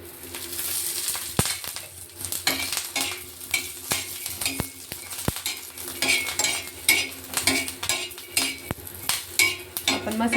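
Masala with grated coconut and coriander powder roasting and being stirred in a pan for a Vidarbha-style fish curry, with steady scraping and stirring, soft sizzling, and a few sharp utensil clicks against the metal.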